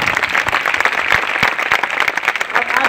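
Loud, dense audience applause at a gathering honouring several mentors, continuous rapid clapping close by with a crowd murmur beneath.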